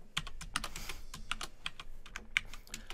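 Computer keyboard keys tapped in short irregular bursts at close range, with individual clicks spaced unevenly and no talking.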